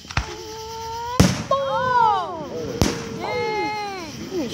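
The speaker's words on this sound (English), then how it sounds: "Yeah, like it's just good for fireworks." Fourth of July fireworks burst with two sharp, loud bangs, each followed by crackling and descending whistling trails, while people talk and exclaim excitedly close by.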